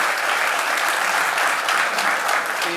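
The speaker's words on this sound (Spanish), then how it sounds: "Quiero pedir un aplauso" A university lecture audience claps, a dense, even patter of applause held at a steady level through a short burst, with no speech on top.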